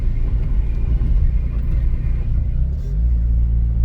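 Heavy rush-hour road traffic heard from inside a car, a steady low engine and tyre rumble that stays loud and constant throughout.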